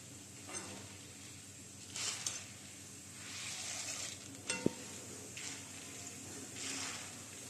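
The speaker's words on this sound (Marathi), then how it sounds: "सगळ्यात पहिला डाळ तळून घ्यायचं" Lentils (dal) shallow-frying in a pan, a steady sizzle with periodic stirring scrapes and a sharp metallic clink, no voices.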